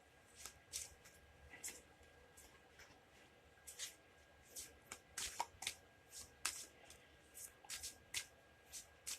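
Tarot cards being shuffled and cut up close, a series of soft papery riffles and taps in an irregular rhythm, quiet against a faint background.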